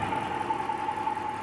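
Rebuilt Hemi V8 engine with a replaced bent push rod, bad piston and spark plug, running rough and shaking, a steady mid-pitched drone with an uneven knocking pulse and a faint whining tone.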